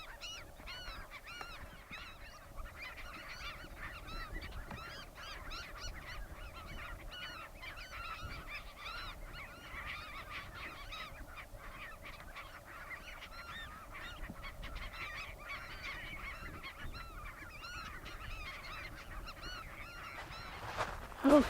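Geese honking outdoors at the Salton Sea, a dense chorus of repeated calls carrying on steadily throughout with a brief louder burst near the end and no talking.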